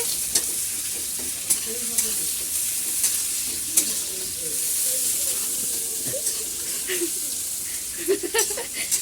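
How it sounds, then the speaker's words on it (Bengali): Potatoes with salt, turmeric, cumin and onion fry in oil with a steady hissing sizzle, punctuated by sharp spatula knocks against the pan, while a faint voice murmurs in the background. "এবার আলুটা ভেজে নেব"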